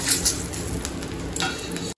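Dry red chillies, whole garam masala and bay leaves crackle and sizzle in hot oil as a tempering for a wedding-style doi katla fish curry, close and lively with a few stirring scrapes before cutting off.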